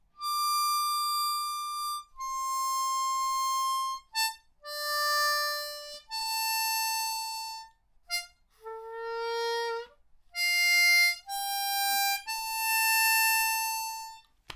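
A harmonica plays line C of the Game of Thrones theme alone, a sequence of sustained reedy notes with brief gaps, including a quicker run of short notes midway and a bent note, close and clear.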